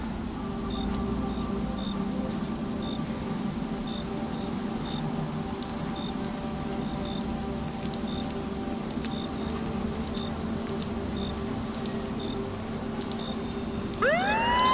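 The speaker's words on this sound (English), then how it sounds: "Siren." A police-style siren wails steadily through the whole stretch, sounding somewhat distant, with a faint rain-like hiss underneath.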